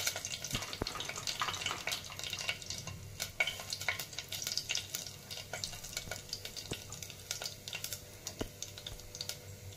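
Cumin and mustard seeds frying in oil, a faint crackling sizzle with sharp scattered pops and light clicks throughout, close but quiet, no voices.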